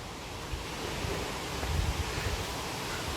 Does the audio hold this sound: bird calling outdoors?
no